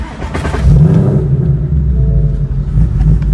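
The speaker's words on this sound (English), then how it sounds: "So we'll start the car up here and I'll show you." A 2018 Ford Mustang GT fitted with a 150-shot nitrous kit cranks and fires up close, settling into a loud, deep, steady idle rumble.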